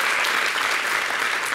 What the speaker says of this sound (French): applaudissez pour toutes les mamans du monde entier.